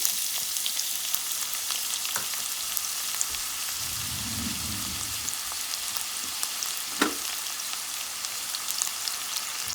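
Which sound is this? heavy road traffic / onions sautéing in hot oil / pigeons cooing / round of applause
onions sautéing in hot oil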